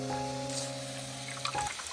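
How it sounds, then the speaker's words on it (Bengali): Goat fat being washed under running water, a steady faint stream from a tap with soft splashing, a steady hum behind it, and a few sharper wet sloshes near the end. "খাসির চর্বি ধুয়ে নিলাম"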